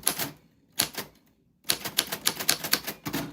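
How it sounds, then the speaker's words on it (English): A typewriter types close by, first in a few separate bursts of keystrokes with pauses, then in a quick steady run of clacking strikes. "when your name falls on the typewriter bell"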